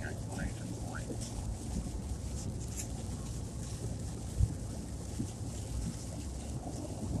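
Heavy rain from Tropical Storm Elsa hisses steadily outdoors, with a low rumble of thunder and one brief thump partway through.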